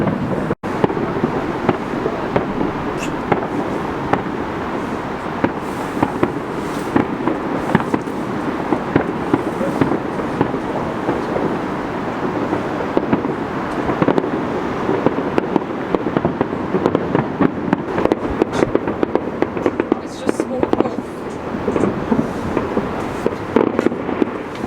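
Guy Fawkes Night fireworks over Newcastle, England, a dense, continuous crackle and rumble of bursts with sharp pops scattered throughout, heard at moderate distance against wind noise and outdoor city ambience.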